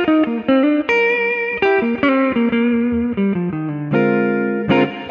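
An electric guitar plays through a distortion effect, loud and close, with sustained overdriven notes and quick melodic phrases, alone without talk.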